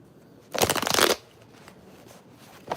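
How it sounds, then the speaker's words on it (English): A short, crisp riffle of tarot cards being shuffled, loud and close for about half a second, followed by faint card handling. "I have my tarot cards."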